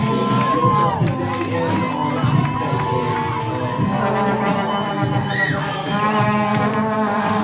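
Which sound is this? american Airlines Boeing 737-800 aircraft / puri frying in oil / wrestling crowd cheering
wrestling crowd cheering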